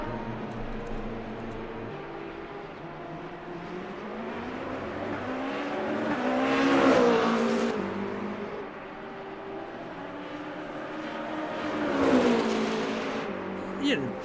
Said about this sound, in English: the engine sound is fine